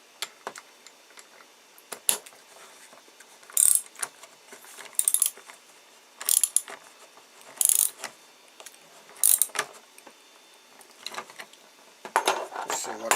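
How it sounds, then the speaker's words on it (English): A washer is tightened onto a wiper motor shaft's splines with a ratcheting tool, giving repeated bursts of clicking ratchet strokes spaced by pauses, close and clear, with some speech around them. "as I'm tightening that up, it's pushing this metal washer more onto the splines"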